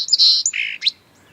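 A song sparrow's call played from a Bluetooth speaker outdoors in a yard: a few bright, clear chirps and a trill in quick succession, crisp and close, then quiet.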